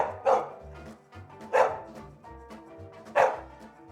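Three loud barks from a dog, evenly spaced about a second and a half apart, with quieter sounds in between.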